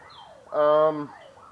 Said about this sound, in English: somebody set an alarm off at somebody's house